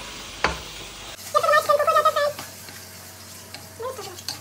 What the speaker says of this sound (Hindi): अभी करेंगे इसको अच्छे से मिक्स